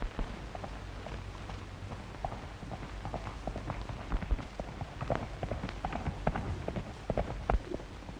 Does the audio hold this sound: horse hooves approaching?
yes